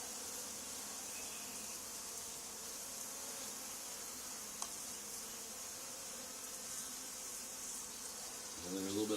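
A honey bee swarm in a hive box, taken from an old barn, fills the air with a dense, continuous buzzing drone. A few louder individual bees pass close by.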